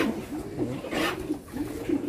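Pigeons coo in soft, low, repeated phrases, close by at a goat farm, with a brief rustle or flutter in the middle.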